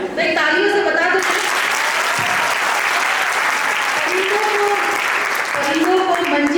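An audience at a Women's Day event bursts into loud, sustained applause, dense clapping that fills the room almost the whole time, with a voice speaking over it briefly at the start and end.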